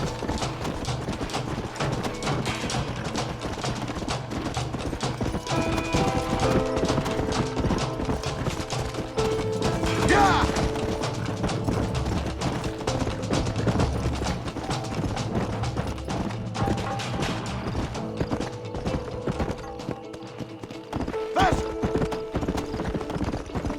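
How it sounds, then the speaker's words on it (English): Hooves clip-clop in a steady galloping rhythm as a horse runs in Red Dead Redemption, with a whinny partway through and game sounds and scattered talk over the top. "pero qué rápido se cansa este caballo"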